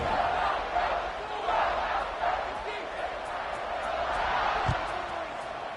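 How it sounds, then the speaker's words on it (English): A packed stadium crowd at a football game keeps up a broad, continuous roar around kickoff, with an announcer talking over the steady cheering noise. "this crowd now ready to get behind them"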